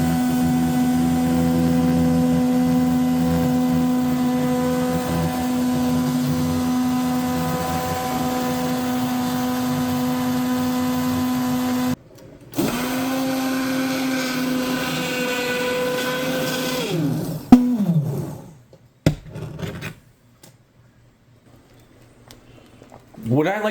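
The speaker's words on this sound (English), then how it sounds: "start your immersion blender once it's emerged into the sauce" A motorized immersion blender in tomato sauce whirs with a steady high hum, cuts out, restarts briefly with a wavering whine, then winds down and stops.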